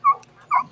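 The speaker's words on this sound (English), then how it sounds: "The dog's back here." A dog whimpers twice in short, high, whining cries close by at a homeowner's property during a police call, with a brief pause between them and no talking.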